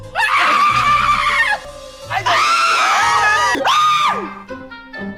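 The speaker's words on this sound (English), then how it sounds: "Even though it was a little too gross for me, I think it was worth it for all the screams." Loud, shrill screaming from a drag show performance, several long sustained shrieks in quick succession with brief gaps and some laughter between them.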